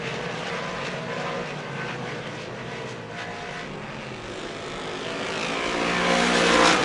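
Modified race cars roaring around Merrittville Speedway during a qualifying heat, a steady loud engine drone that swells toward the end as the pack passes close.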